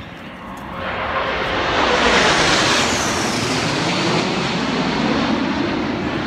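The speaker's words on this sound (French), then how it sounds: "Il y a les avions qui viennent juste de passer par derrière" Aircraft pass behind the Arc de Triomphe in Paris during the 11 November 2018 commemoration. Their engine roar swells within a second into a loud, broad rumble, then holds steady and slowly eases, with no talk over it.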